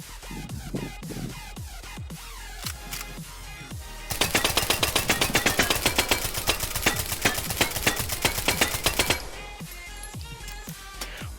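Submachine gun in the VR shooter H3VR, first sharp mechanical reload clacks and single shots, then a fast sustained full-auto burst lasting several seconds, followed by more isolated shots and handling clicks, close and loud with no talk.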